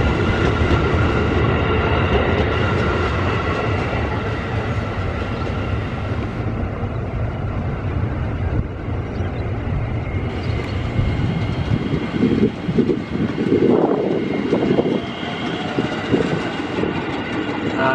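A JR205 commuter train on the loop line heading for Bogor rolls past near Jatinegara station, a loud steady rumble of wheels and carriages with faint clickety-clack and brief squeals, continuous throughout without voices.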